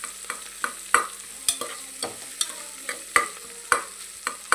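Onions with ginger-garlic paste fry in a pan for vegetable pulao, a soft sizzle under repeated rhythmic scrapes and taps of a spoon stirring against the pan.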